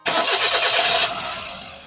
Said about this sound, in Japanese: これでエンジンをかけてエンジンを温めて、 エンジンの熱でね、ガスケットなんかも乾燥させたいと思います。